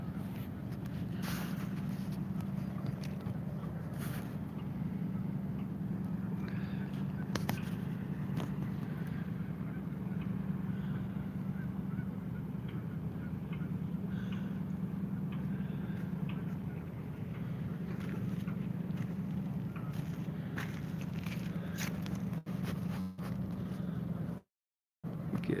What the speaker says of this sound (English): You guys hear these engines?